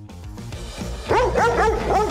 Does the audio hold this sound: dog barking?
yes